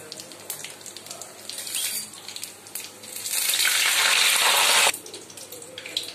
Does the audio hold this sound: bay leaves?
yes